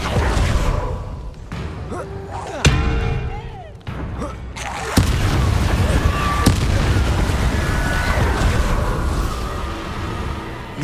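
Booming fire-spell blasts of Confringo in Hogwarts Legacy, a few sharp explosive hits over a rumbling, crackling battle bed, loud and close, with a character's voice calling out.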